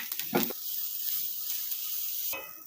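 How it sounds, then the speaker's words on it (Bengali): Eggs frying in a pan of mustard oil give a steady, close hiss of sizzling that runs right through, with a brief utensil clink near the start and another stir sound near the end. "আমি ডিমগুলো ভেজে নিচ্ছি"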